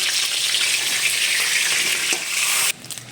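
Steady, bright sizzling of dried red chillies, bay leaves and whole cumin frying in hot mustard oil, close and continuous, cutting off abruptly near the end.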